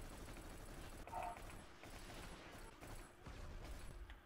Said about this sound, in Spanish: muy buena la M16 esta